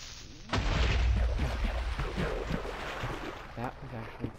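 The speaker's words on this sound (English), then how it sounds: "Pretty controlled explosion." An explosion in Minecraft bursts suddenly with a loud low boom, then rumbles and fades over several seconds as a voice talks over the tail.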